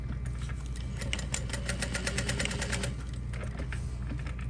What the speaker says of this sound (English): I'm using a pretty small stitch length to make these darts.